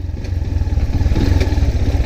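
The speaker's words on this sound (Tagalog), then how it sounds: "Ang sarap sa feeling mga lods makapag-drive ng 200cc." A 200cc motorcycle engine thrums loud and close while being ridden, its rapid pulsing firing beat steady and slightly rising, with wind rush and no talk.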